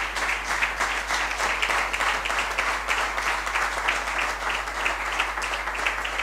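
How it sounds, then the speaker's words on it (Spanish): Audience applause fills a police award ceremony for the Puerto de la Cruz local police, a steady dense crackle of many hands clapping at even loudness throughout, with no voices over it. "un aplauso."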